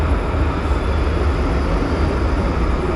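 A Bombardier Flexity tram in Alicante, Spain rumbles with a steady, dense roar of rolling wheels and motor noise, loud and continuous throughout.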